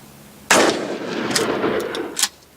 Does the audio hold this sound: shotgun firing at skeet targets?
yes